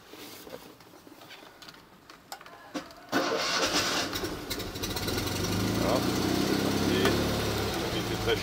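A Fiat 126A engine cold-starts with the choke on: quiet cranking and small knocks, then at about three seconds it catches and settles into a steady, loud idle that carries on to the end.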